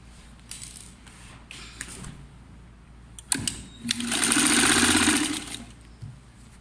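A sewing machine stitches a skirt seam; soft motor hum and scattered clicks build to a loud, steady whirring run of stitching for about two seconds, then slow back to a low hum, with no voices.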